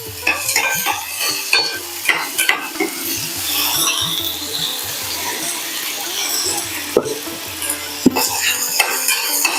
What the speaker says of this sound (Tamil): இஞ்சி பச்சை மிளகா நல்லா வதங்கின உடனே ஒரு பெரிய வெங்காயம் பொடியா நறுக்கி வச்சிருக்கேன்